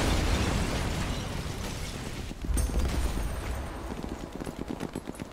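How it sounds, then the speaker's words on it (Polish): A big explosion in Sniper Elite 4 set in Italy: a heavy, loud blast opens and rumbles out, followed by a second boom and crackling, popping debris that fades away, with no voices. "Tutaj będzie wybuch"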